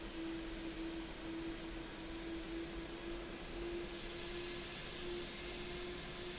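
A steady drone from an A300 airliner engine in a flight simulator game, a faint, even hum with a sustained tonal whine and no talking.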